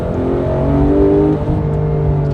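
Porsche 911 GT3 engine revving under throttle, a loud steady mechanical drone with sustained harmonic tones heard from inside the car, rising slightly then holding.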